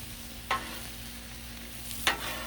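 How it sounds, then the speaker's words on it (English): Tortellini in sauce sizzles steadily on a Blackstone griddle, and two quick scraping stirs cut through the constant close frying hiss. "I'm stirring to make sure everything gets covered by the sauce"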